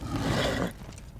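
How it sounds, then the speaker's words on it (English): A horse in the game Lord of the Rings Online neighs in a short, rough burst with hoof noise, close and loud, then fades quickly. "there's a horse here"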